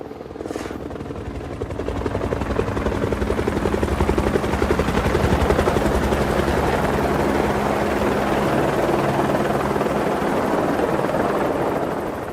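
A helicopter hauling earth and stones at Mont Saint-Michel flies close by with a loud, continuous rotor thump and engine roar that holds steady throughout.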